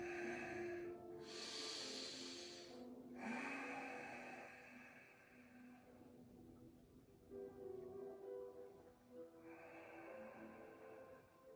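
Slow, deep yoga breaths, each long inhale and exhale audible as a soft close airy hiss with pauses between, heard alone without speech.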